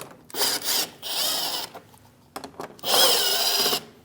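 A power tool fitted with a 7mm socket runs in bursts, removing bolts from the plastic engine splash shield under a 2016-2025 Chevrolet Malibu: three close whirring runs, separated by brief pauses.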